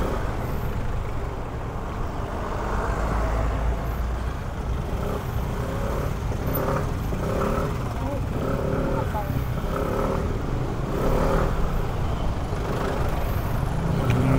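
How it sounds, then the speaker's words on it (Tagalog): Road traffic surrounds a Kymco Skytown 150 scooter riding through a congested two-lane stretch, a continuous rumble of passing cars, trucks and engines under someone talking throughout. "Ngayon andito na tayo mismo sa traffic na yun"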